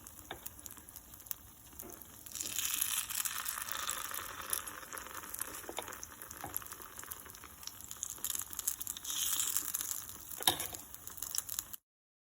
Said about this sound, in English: So here I am adding the batter into this kuri paniyaram pan.